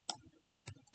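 A computer mouse clicks three times, quiet and close, with two quick clicks after a gap, during 3D modelling work in Blender.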